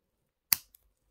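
A single sharp snip as wire cutters bite through the tail end of an adjustable cord, a short crisp cut followed by a faint second click, close and isolated in a quiet room.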